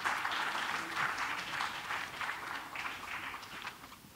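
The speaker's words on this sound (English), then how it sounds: "Please join me in giving him a round of applause." An audience at a rock mechanics conference session claps to welcome a speaker, a steady wash of applause that rises and falls slightly before thinning out.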